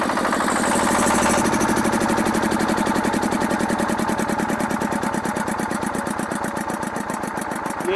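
A handle-start diesel generator set with a Field Marshal engine and a 10 kVA copper-wound alternator runs steadily, its loud, rhythmic engine knock filling the whole span with no talk.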